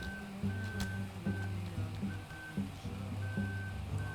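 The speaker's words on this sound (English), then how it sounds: "I don't know why it's beeping as if it's backing up" Steady electronic reversing beeps from a vehicle in Farming Simulator 15 repeat at an even pace over a low engine rumble, with brief heavier thumps mixed in.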